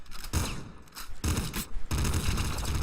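Enemy gunfire in Nuclear Throne arrives as loud, dense bursts of rapid electronic shots, three clustered volleys with short gaps between them.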